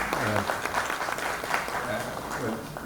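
Audience applause at a conference on INTOSAI membership, a steady wash of clapping from a crowd filling the whole moment, with voices audible underneath.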